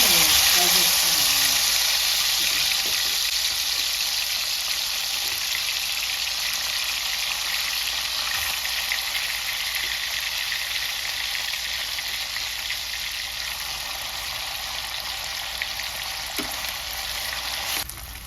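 Cashew chicken fries in hot oil with a steady, dense sizzle that holds close and even, easing off slightly over time, with no voice over it.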